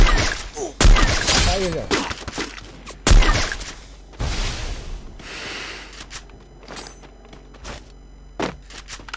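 Gunfire rings out in Free Fire, several sharp loud cracks and bursts spaced irregularly with echoing tails, while people talk briefly between the shots.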